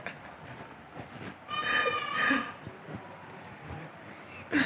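Goats bleat in a short burst of two wavering, nasal calls at moderate distance, set against a faint rumbling background with scattered low noises before and after.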